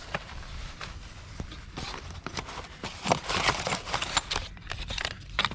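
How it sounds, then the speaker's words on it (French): Plastic packaging crinkles and rustles as an anodized intake manifold for a 50cc DT scooter is unwrapped, with irregular crackling bursts and handling clatter close up, no talk. "Là on va déballer la pipe d'admission."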